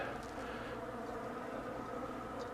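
Dense, steady buzzing of many bees at a large hive hidden beneath insulation under a house floor, a continuous close hum without pauses or talk.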